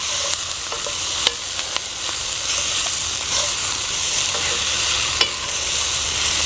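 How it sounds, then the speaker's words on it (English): A hot sauté sizzling steadily in a cast iron pot over a campfire for a quail gumbo, a loud continuous hiss with occasional small pops and clicks, no talking. "Got a good hot saute going on under this"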